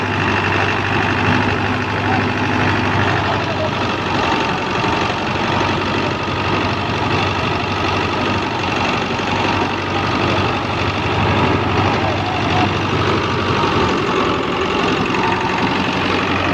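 A 640 tractor engine runs continuously and loudly while powering a large thresher, a dense, even mechanical drone with constant vibration and no pauses for the whole stretch.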